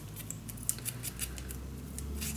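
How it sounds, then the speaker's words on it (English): Scissors snipping through a scrapbook page of patterned paper: a quick run of light, crisp cuts, close and faint over a steady low background hum. "and then cut your flippable page"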